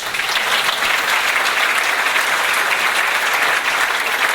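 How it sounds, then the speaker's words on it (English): An audience at a school district opening-day celebration bursts into loud, sustained applause, a thick continuous wash of clapping with no pause. "How about a round of applause?"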